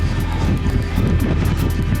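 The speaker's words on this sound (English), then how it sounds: "the drone is really shaking around" A DJI Mini SE drone buzzes steadily while hovering in high wind, its loud whine mixed with gusty wind rumble against the microphone.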